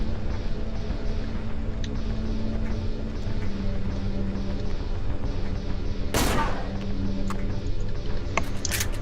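Gunfire in the Cry of Fear horror video game: one loud, sharp shot cracks out clearly, followed near the end by a couple of faint clicks over a steady low ambient drone.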